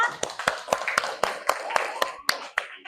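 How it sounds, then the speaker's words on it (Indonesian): A class of students claps together in a rhythmic series of sharp, evenly spaced hand claps, about eleven beats in under three seconds, with voices murmuring underneath. "tepuk tangan untuk kita semua ya."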